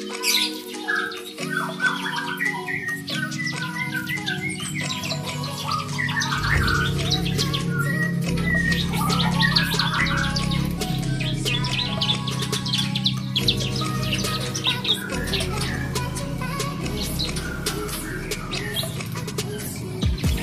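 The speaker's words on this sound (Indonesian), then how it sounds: "ramai banget guys burung cibleknya" Ciblek birds in an aviary chatter and chirp busily, with many overlapping sharp calls and squawks in a lively, continuous flurry, close by.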